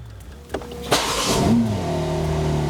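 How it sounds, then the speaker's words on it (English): A click, then a BMW M3 engine cranks and catches, revving briefly before settling into a steady idle. "Engine started,"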